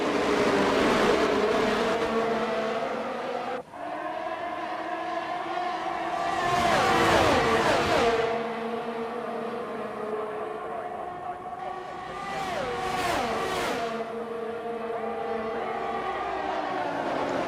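F1 cars in a racing video game lap the Abu Dhabi circuit, with engine whines rising and falling in pitch as cars pass, including two louder sweeps, under a steady background hum.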